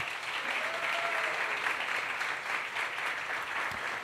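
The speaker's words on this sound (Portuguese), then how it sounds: "uma salva de palmas para os nossos astros!" Loud, steady applause from a crowd at the close of a hypnosis show at Rio Retrô, sustained throughout with a brief voice near the end.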